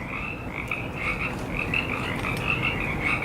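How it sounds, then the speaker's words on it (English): A chorus of frogs croaking outdoors at night, dense repeated trilling calls overlapping in a steady rhythmic pulse, fairly loud and close with no talking. "Dude, those frogs."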